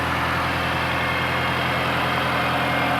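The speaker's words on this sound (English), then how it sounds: "Just did a cold start." A 2004 Mini Cooper S R53 engine with 313,000 miles idles steadily after a cold start, with a constant low rumble and no other sounds.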